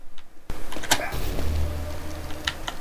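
A teleport effect in the Open Fortress game, built on a remastered Half-Life sound, starts abruptly with a sharp electronic burst and whoosh, then a low humming buzz with crackles, loud and alone.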